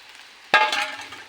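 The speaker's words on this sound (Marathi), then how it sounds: "आणि हे चांगलं आता परतवून घ्यायचं आहे मीडियम फ्लेमवरती" Sabudana, chili and potato are stirred in a pan over a medium flame, making a single sudden clattering scrape followed by a short, fading sizzle, close and alone.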